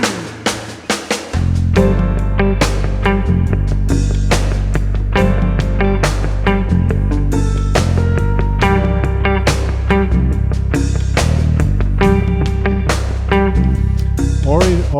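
Smooth jazz electric guitar plays a basic syncopated rhythm figure over a full backing track with bass and drums, steady and loud from start to finish after a brief sparse opening.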